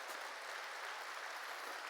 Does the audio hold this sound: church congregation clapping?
yes